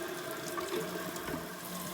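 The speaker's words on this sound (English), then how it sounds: "we're going to fill up the sink with some water." A kitchen faucet runs steadily, filling a sink with water for washing dishes, a close continuous rushing splash heard alone.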